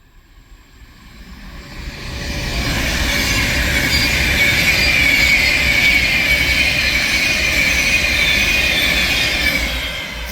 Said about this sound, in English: we have a class 390 Pendolino passing through from Northampton to Manchester Piccadilly